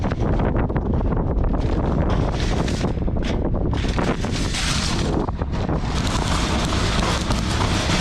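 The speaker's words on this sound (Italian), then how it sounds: "Che vento" Strong wind buffets the microphone outdoors beside a parked camper van, a continuous loud roaring rumble with gusty swells throughout and no talking.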